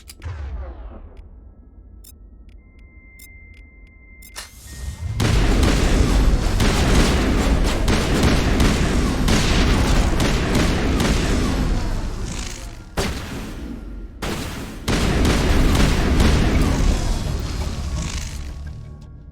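Sustained, dense firefight in Mass Effect with heavy booms, rapid gunfire and explosions, loud and continuous after a quieter start, briefly dropping off twice before resuming.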